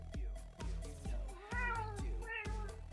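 A cat meows repeatedly in a rhythmic series of drawn-out, wavering calls, close and fairly loud, with thumping sounds between them.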